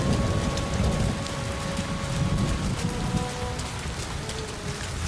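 Steady, heavy rain falls in a dense, even wash with a low rumble underneath, continuous for several seconds and with no voices.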